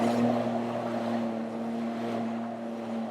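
A small motorboat's engine drones steadily up close in Mount Maunganui harbour, its low hum mixed with the wash and slap of waves against the hull.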